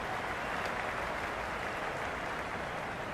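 Crowd roar at a cricket match in the Cricket 26 video game, Pakistan vs India at the MCG: a dense, steady wash of cheering and applause holding at an even level throughout, with no commentary over it.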